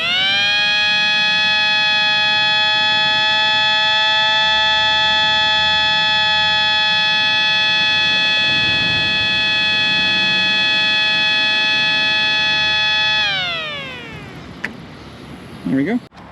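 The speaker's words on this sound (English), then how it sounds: "But it is a 5T because it does have an intake tube." A 5T siren with an intake tube wails loud and steady at a constant pitch, then winds down in a falling sweep near the end, followed by a few clunks.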